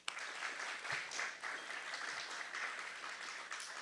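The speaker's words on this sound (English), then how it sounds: "and I think that deserves an applause." An audience at an alumni awards ceremony applauds, a steady, moderately distant wash of clapping lasting a few seconds without talk over it.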